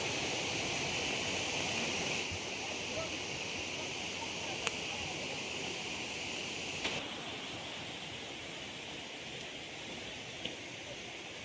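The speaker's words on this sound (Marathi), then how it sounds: "तर पहा इथे धबधबा आहे" Waterfall at Bhandardara, a steady broadband roar of falling water that stays constant throughout, with a few faint brief clicks and no talk.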